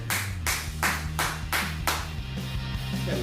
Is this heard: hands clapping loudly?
yes